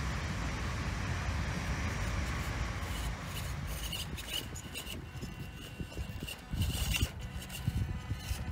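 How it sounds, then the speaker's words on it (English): A train rumbles past at moderate distance, a continuous low roar with rattling swells, loudest toward the end, with no voices. "there's a train going past"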